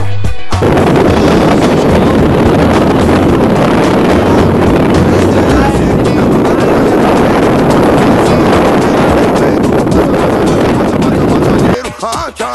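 Strong wind on a mountain summit at Agulha do Diabo, roaring continuously and loudly into the microphone with heavy buffeting for about twelve seconds before easing at the end.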